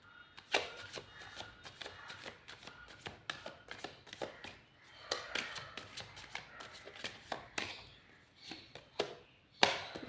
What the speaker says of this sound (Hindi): देखो, एक सेकंड, एक कार्ड मुझे यहाँ से लेना।